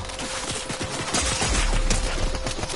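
Rapid gunfire from the Fortnite video game, a dense continuous barrage of automatic shots and impacts filling the clip at steady loudness, with no talk.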